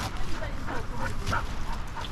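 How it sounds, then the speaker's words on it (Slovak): A dog whimpers and whines in soft, broken bursts close by, right after catching a chicken, with a faint background hum throughout. "No to je zlý pes."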